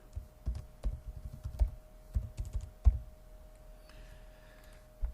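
Quiet, irregular keystrokes tap on a computer keyboard in short bursts as a password is typed, with a faint steady hum behind them.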